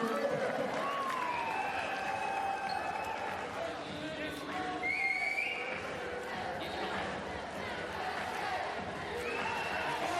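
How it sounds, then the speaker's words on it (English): A crowd at a women's volleyball Olympic qualifier between the USA and Bulgaria cheers steadily in a large arena, a continuous roar with whistles and shouts running under a commentator's voice. "The crowd cheering again."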